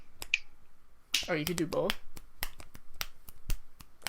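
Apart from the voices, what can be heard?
finger snapping, reverse snap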